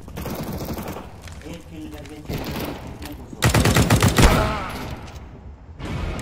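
Sniper rifle gunfire in the CS:GO video game: a dense burst of sharp shots in the middle, with other game sounds and talk before and after.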